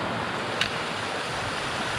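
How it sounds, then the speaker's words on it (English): A small forest stream along a mountain trail section, its steady broadband rush of flowing water continuous and close, with a single brief click near the start and no voices. "look at these streams"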